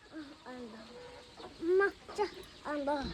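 Chickens cluck on a farm, close by, in short repeated bursts of warbling clucks that come one after another over quiet background noise.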